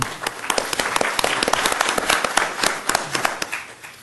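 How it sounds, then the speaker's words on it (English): An audience at a grants workshop applauds its panelists, a close, busy patter of many individual claps sustained evenly throughout. "a round of applause for all of our panelists"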